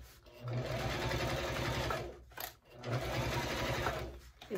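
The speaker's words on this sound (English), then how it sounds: "It's sewing well on the spine." A sewing machine stitches along the spine of a budget fabric bag, running in two steady mechanical bursts with a brief pause between them, loud and close.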